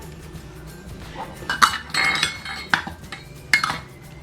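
Spoon clinking and scraping against a bowl while chicken marinade of egg, salt, black pepper, garlic powder and vinegar is stirred, with several sharp metallic clinks amid soft steady stirring, close and alone.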